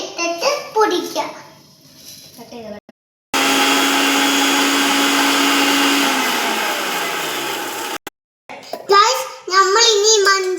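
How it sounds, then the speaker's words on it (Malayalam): A kitchen mixer grinder powders flattened rice (poha) for a Munch chocolate milkshake, running as a loud steady whine for about five seconds with a falling pitch near the end, between stretches of someone talking before and after. "അവല് മിക്സിയിൽ ഇട്ടിട്ട് പൊടിക്കാം."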